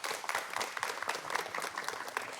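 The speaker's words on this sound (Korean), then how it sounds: "양 팀 모두 서로를 격려하는 마음을 담아서 박수 한번" Audience applause at a high school book-debate final, greeting both debating teams; a dense, steady patter of many hands clapping at moderate distance, fairly soft overall, continuing evenly without voices on top.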